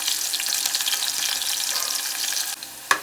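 Sliced onions and green chillies frying in a pan with steady loud crackling sizzle up close, a few stirring scrapes, and a sharp clink just before the end.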